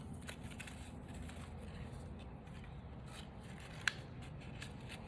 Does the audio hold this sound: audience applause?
no